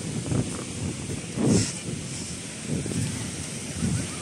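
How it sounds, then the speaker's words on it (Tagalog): Strong wind buffets the microphone in rough gusts, rising and falling, with surf rumbling in the background and no voices. "Ang lakas ng hangin"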